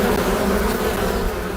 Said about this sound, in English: The humble bee, maker of honey and now potential saver of lives.